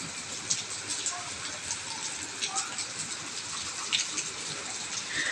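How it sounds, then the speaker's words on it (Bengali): Light drizzling rain, a soft, steady hiss with faint scattered patter, even and unbroken throughout. "বৃষ্টি কিন্তু খুব জোরে হচ্ছে না, টিপ টিপ বৃষ্টি হচ্ছে"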